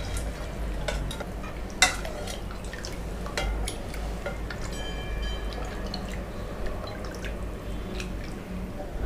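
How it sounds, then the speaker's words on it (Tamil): Drumstick leaf soup is stirred in a pot, a steady close bubbling simmer with soft scraping strokes and scattered ladle clicks running throughout. "நல்லா மிக்ஸ் பண்ணிக்கோங்க"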